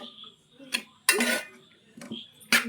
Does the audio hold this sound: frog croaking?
no